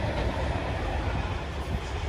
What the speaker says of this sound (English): Oh, it'll be a Boulby potash train, I would strongly suspect.